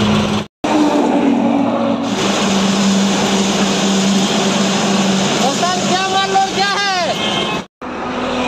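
A loaded goods truck drives along a road at a slow pace while another vehicle overtakes it on the left, giving a loud, steady engine drone with a rising and falling whine near the end, and someone talks over it.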